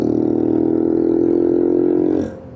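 A Boom Vader 125cc Honda Grom clone engine with a Nibbi carburetor drones loudly and close at steady revs, then drops away sharply near the end.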